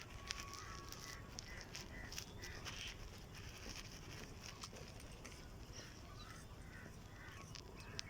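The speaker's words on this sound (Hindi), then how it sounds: "ये चिड़ियों की चहचहाट," Birds chirping and calling outdoors at a railway station in Kathua, a steady busy chorus of scattered chirps over a constant low rumble of ambient noise, with crow-like caws among them.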